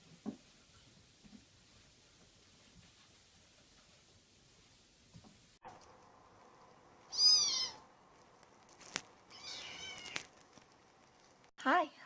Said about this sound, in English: Typical cat.